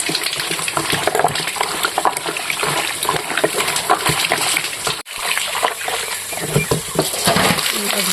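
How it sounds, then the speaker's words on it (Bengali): Cut pieces of oily pangas fish are washed with salt in water, giving continuous splashing and sloshing with patter and swishes of hands working the fish, fairly close, a brief pause midway. "লবণ দিয়ে আমি মাছটা ভালো করে ধুয়ে নেব।"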